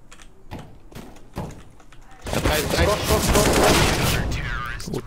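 Gunfire from Counter-Strike: Global Offensive: a few sparse single shots, then a dense, loud burst of rapid automatic fire sustained to the end.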